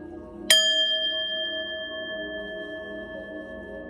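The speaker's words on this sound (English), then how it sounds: "I'm gonna ring the bell and let's get it" A single bell is struck once, a bright clear ding that rings on with a long sustained tone fading slowly over several seconds.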